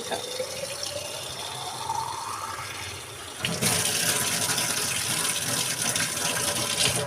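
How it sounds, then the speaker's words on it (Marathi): Water pours steadily into a bottle, its pitch rising as it fills, then a louder gushing stream takes over and runs continuously. "बॉटल भरून घेते मी सकाळी पाणी"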